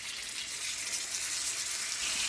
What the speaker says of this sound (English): We're gonna go ahead and put the T-bones down, and we're gonna sear them